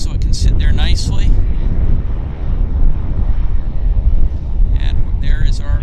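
An American Airlines airliner bound for Dallas Fort Worth at Vancouver airport gives a steady, broad jet roar mixed with wind buffeting, with brief bits of voice near the start and end.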